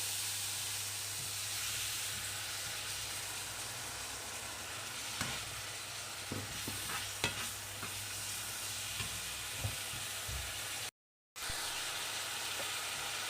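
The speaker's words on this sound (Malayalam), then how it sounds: "എന്നിട്ട് ഇതിലേക്ക് കുറച്ച് ചിക്കൻ സ്റ്റോക്ക് ഒഴിച്ച് കൊടുക്കാം" Chicken stock poured into a hot pan of momo filling, giving a steady soft sizzle and hiss with a few stirring clinks and taps scattered through, close and quiet, with no talking.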